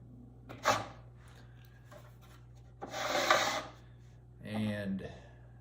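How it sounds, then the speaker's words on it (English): A wet sponge rubs over a freshly trimmed clay pot, giving three short scraping swipes, close and soft, with quiet pauses between them. "take a sponge with some water"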